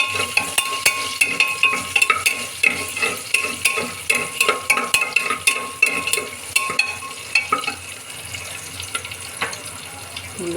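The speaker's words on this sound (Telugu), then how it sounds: "కరివేపాకు, వేయించుకుందాం." Curry leaves fry in a pan with a loud, close sizzle, broken by repeated scraping and stirring strokes.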